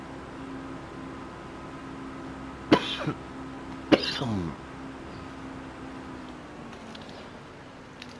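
A person coughs twice in quick succession, sharp close bursts a second apart, over a quiet steady electronic hum.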